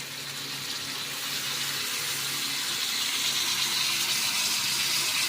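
Hot water poured over fish in a pot, a steady broadband gush that keeps running evenly and fairly loud for about five seconds, with no voices over it.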